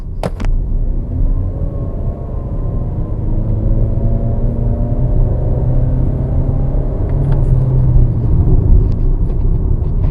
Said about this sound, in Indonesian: sekarang kita coba ya potensi mesin 1500 cc si MG ZS ini